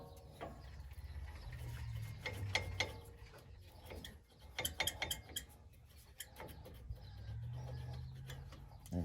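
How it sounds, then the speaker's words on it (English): Old brake pads are worked out of a Ford F150 brake caliper: close metallic clicks, scrapes and rattles come in irregular bursts over a low steady hum, with no talking. "Now the caliper comes off. I'm going to set the caliper up there. I'm going to remove the old brake pads."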